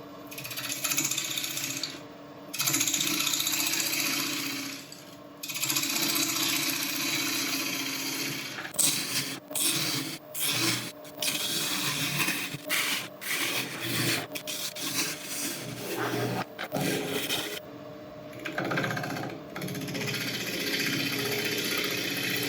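Wood lathe turning an African mahogany bowl, a rough scraping and rubbing of the tool against spinning wood with a motor hum, broken by repeated short pauses and bursts of cutting.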